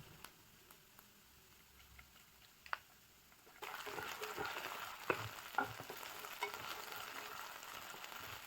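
Garlic paste frying in hot oil with browned onions for a fish masala, quiet at first, then a louder crackling sizzle kicks in as the paste goes in, with a few sharp spatters and stirring taps.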